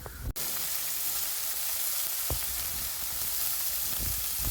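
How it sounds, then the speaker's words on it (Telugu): Garlic, ginger, onions and green chilies fry in hot oil, giving a loud continuous sizzle with a few brief stirring knocks, close by. "వెల్లుల్లిపాయ వేగిన తర్వాత అల్లం ముక్కలు, ఉల్లిపాయలు, పచ్చిమిరపకాయలు అన్నీ వేసి దోరగా వేయించేసుకోవాలి."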